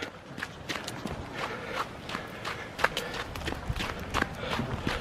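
Quick running footsteps of a person on concrete outdoors after snow, a steady rhythm of close, sharp foot strikes with some brief voice sounds.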